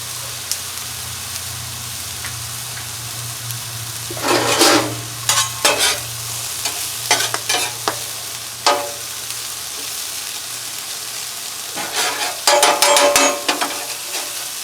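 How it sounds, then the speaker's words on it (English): Buttered Texas toast browns on a Blackstone flat-top griddle with a soft, steady sizzle. Scattered bursts of spatula scraping and clatter come up close in two clusters. "butter up my Texas toast. Get those a browning. And getting toasted."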